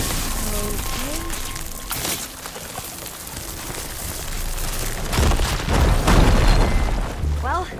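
Firegleam deposit bursting in Horizon Forbidden West, a loud booming eruption that swells and rumbles for a few seconds amid game ambience and ringing tones, with talk nearby.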